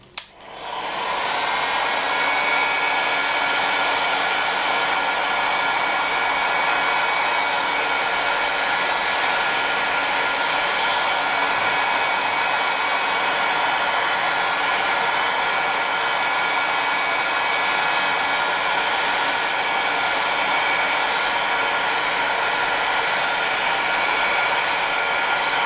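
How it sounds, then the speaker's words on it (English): A hairdryer on its lowest setting blows steadily on polymer clay to dry and crack it: one loud, unbroken airflow roar that starts abruptly and runs alone without change. "now we are going to grab our heat gun again, or a hairdryer, that will work as well. Lowest setting, and just start drying it."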